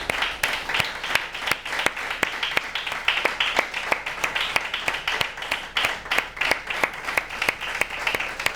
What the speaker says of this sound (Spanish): Este aplauso en realidad va para vosotras y vosotros